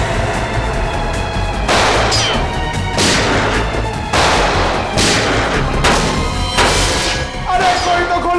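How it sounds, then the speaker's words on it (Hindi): Gunfire in a Hindi TV crime drama: several loud, sharp shots or crashes about a second apart, each with a brief decay, over a steady background of music and noise. "मुझे भी गोली चलानी है।"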